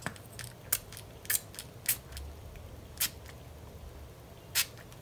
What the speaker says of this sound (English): Now let's see what this sprayer is like.